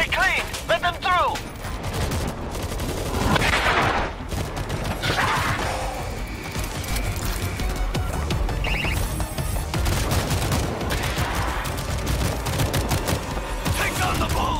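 Rapid turret gunfire in World War Z blends with other weapons into a dense, loud, unbroken fusillade for the whole stretch, with sharp cracks and bursts piling over one another.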